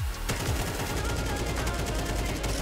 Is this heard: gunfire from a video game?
yes